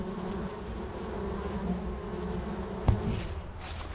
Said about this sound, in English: look at all those bees with their pollen baskets marching right in.